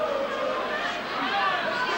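Rugby league crowd at a Hull versus Australia match in 1986, a continuous dense roar of voices and chanting from the terraces, steady and fairly loud throughout with no distinct pauses.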